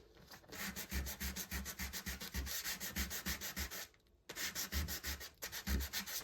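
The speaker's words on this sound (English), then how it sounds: "This is a piece of sandpaper that I've been using for different things. So I'm going to sand." A piece of sandpaper worked by hand over a junk journal topper in quick, even back-and-forth strokes, close and rhythmic with one brief pause, no talking.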